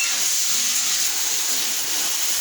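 Chickpeas, potato and pumpkin frying in a pan: a steady, close, loud hissing sizzle that runs continuously and evenly with no talk over it.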